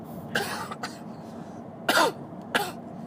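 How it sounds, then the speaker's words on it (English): One person coughs in four harsh bursts with short pauses between them, the strongest near the middle, over a quiet indoor background hum. "Sorry, I'm coughing."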